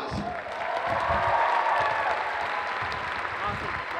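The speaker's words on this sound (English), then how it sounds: "Let's give him a round of applause." At a comic convention cosplay competition, a crowd gives a contestant a round of applause, with steady clapping mixed with some cheering and voices.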